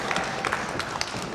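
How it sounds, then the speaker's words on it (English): Church congregation at a Baptist worship service clapping and stamping, a brief dense wash of hand claps and crowd noise, close and fairly loud with no clear speech. "All those who say yes, please stamp your feet, clap your hands, and say amen."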